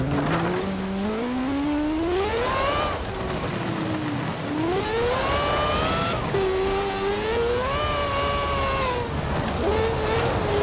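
A Mazda RX-3 in Forza Horizon 4 revs hard over rough rocky ground, its engine note climbing and dropping through repeated gear changes, loud and continuous with no voices.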